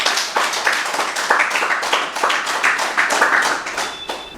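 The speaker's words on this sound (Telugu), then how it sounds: "మనందరికీ ఒకసారి గట్టిగా క్లాప్ చేసుకుందాం" A group claps hands together in a steady, lively burst of applause lasting several seconds after a meditation session, with no voices.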